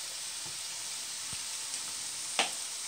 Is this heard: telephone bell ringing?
no